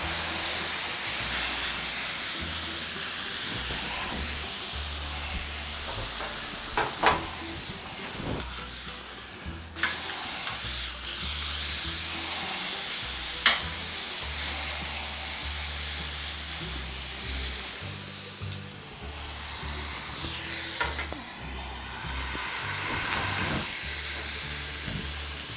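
Steak sears in olive oil on a Blackstone griddle, giving a steady, loud sizzle and hiss with occasional scrapes and taps of a spatula, close up and without talk.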